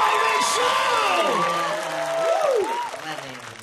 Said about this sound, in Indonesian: tepuk tangan dulu buat Komik Magic Comic Show